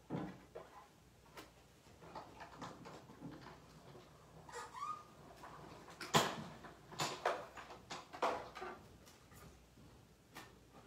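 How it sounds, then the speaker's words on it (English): A flower is die cut for a hydrangea card with a hand-cranked die cutting machine: quiet, irregular clicks and ratcheting thumps that grow louder and more clustered toward the middle and end. "now I'm just going to die cut the flower"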